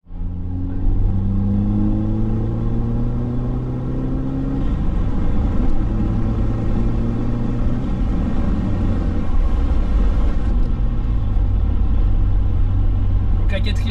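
A Volkswagen Golf GTI engine pulls steadily in fourth gear, a loud droning rumble whose pitch rises smoothly as the car gains speed, heard from inside the cabin.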